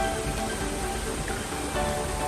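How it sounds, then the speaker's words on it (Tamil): Heavy rain pouring steadily in Cuddalore district, a dense, even wash of hiss that stays loud and unbroken throughout, with no voices. "கடலூர் மாவட்டத்தில் நள்ளிரவிலிருந்து தற்போது வரை தொடர்ச்சியாக இடைவிடாமல் கனமழை என்பது பெய்து வருகிறது"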